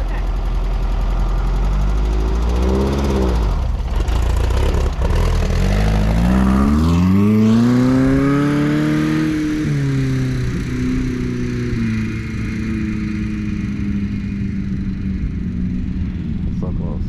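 A manual-transmission car's engine drones and rises in pitch as it accelerates through sand, then settles into a steady hum, loud and close, with some talking heard over it.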